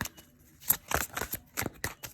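Tarot cards shuffle in quick, crisp bursts of riffling and slapping, close and fairly loud, with short gaps between strokes.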